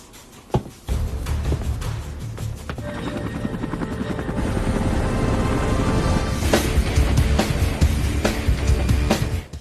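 Helicopter carrying parachuting contestants, a loud continuous rotor thump and turbine whine that swells and stays steady overhead, close and dominant throughout.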